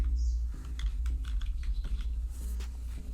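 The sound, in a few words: typing on a computer keyboard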